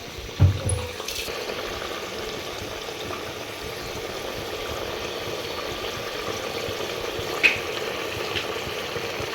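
Chicken frying in ghee with crushed garlic, a steady soft sizzle and bubbling throughout, with a couple of sharp clinks near the start and one later, no talking.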